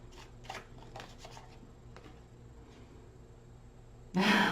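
Tarot cards shuffled by hand, with a series of soft riffling, flicking bursts that end in a sudden louder, closer rush of card noise.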